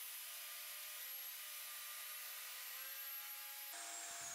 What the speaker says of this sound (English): I cut a groove to insert it with the bench table saw